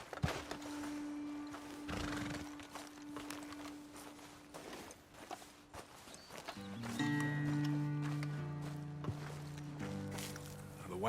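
Horses in Red Dead Redemption 2 whinny and snort while their hooves clop irregularly on the ground nearby, joined by a steady tonal hum and soft game ambience.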